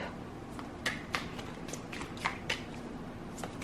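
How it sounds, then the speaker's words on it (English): Tarot cards being shuffled by hand, a soft steady riffle with several sharp slaps and taps scattered through, close and quiet with no talking. "So I'm going to shuffle some more cards here"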